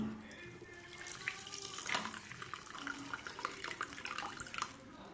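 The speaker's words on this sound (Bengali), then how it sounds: "এবার কাপড়টাকে আমি দিয়ে জলটা চেপে ভালো করে ঝরিয়ে নেব।" Water drains and trickles from freshly made chhana as it is squeezed in a cloth, a steady close splashing flow with soft drips, alone and fairly quiet.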